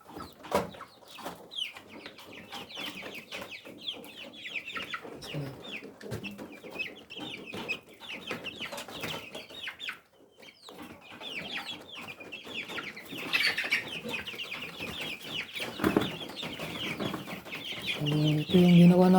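Rhode Island hens and a rooster cluck steadily close by in a backyard setup, with scattered squawks and some rustling that grow somewhat louder near the end.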